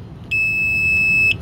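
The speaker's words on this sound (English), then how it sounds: "it's beeping at me, yeah." A hard AM/RF anti-theft security tag sounds a steady, high-pitched electronic beep lasting about a second, close and clear over quiet room hiss.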